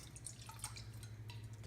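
Soy sauce pours into a mixing bowl, making soft dripping and splashing sounds over a low steady hum, faint and close.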